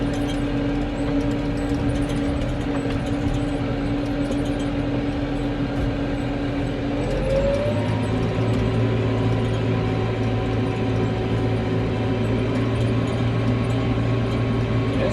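Farm tractor engine idling steadily at a spring oat planting, a constant low drone whose pitch shifts lower about halfway through as the engine settles, no talk over it.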